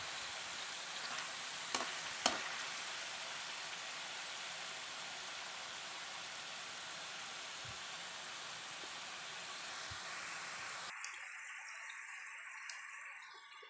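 Jackfruit chips roasting in a pan over low heat, a steady bright frying hiss with a couple of small clicks early on, close and even, ending in a quieter, thinner sizzle.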